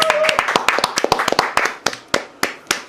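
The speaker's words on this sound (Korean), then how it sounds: "박수 한번 드리겠습니다." Studio audience members clap on a Korean talk show for a guest's birthday, a quick flurry of sharp hand claps that thins out into a few scattered, separate claps near the end; a voice is briefly heard at the start.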